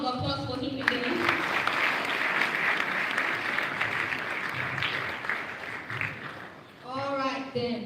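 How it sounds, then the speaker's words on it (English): An audience at a live talk event breaks into a sustained, moderately loud round of applause with many hands clapping evenly; a speaking voice sits over the start and returns as the clapping eases at the end. "A humongous round of applause for him again."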